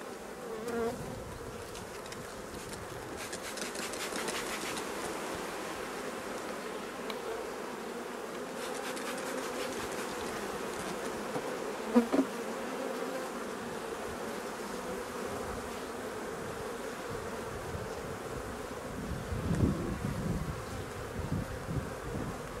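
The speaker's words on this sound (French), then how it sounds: "Je fais attention, pareil, de ne pas écraser les abeilles." Honeybees buzz steadily and close throughout a beehive inspection, a dense continuous hum with occasional louder passes of individual bees near the hive frames, no talking.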